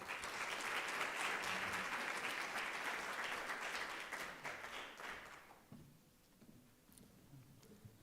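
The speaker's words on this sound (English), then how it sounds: "I want to say a big round of applause to Stephanie." Audience at a school board meeting in Waynesville, Missouri gives a round of applause, dense clapping filling the room for about five seconds before tapering off into quiet room noise with scattered stray claps.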